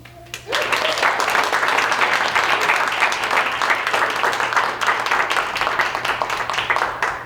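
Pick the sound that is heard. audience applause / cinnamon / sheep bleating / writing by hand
audience applause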